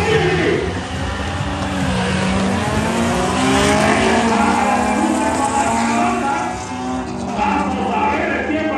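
A car in a street drag race accelerates hard, its loud engine droning and rising in pitch as it revs through the run, with voices faintly mixed in.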